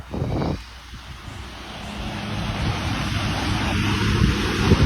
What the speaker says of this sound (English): Look at it, mate. It's the ocean.